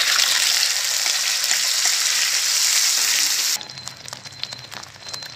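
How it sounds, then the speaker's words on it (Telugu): A blended onion, tomato, ginger, garlic and pepper paste hits a hot pan with loud, steady sizzling that suddenly drops to a quieter bubbling crackle as the frying settles. "ఉల్లిపాయ టమాటా అల్లం వెల్లుల్లి మిరియాలు వేసుకొని మిక్సీ పట్టుకున్నాం కదండి ఇప్పుడు ఈ గ్రేవీ దాంట్లో పోసేద్దాము"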